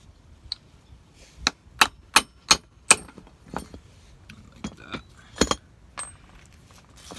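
A dead blow hammer tapping on a Jeep Wrangler JK front wheel hub, a series of sharp, close metallic knocks, some in quick succession and others spaced apart, over a quiet background.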